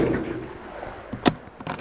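A single sharp, loud rifle shot cracks at an outdoor shooting range, a brief close blast with a short ringing tail, preceded by faint background rumble.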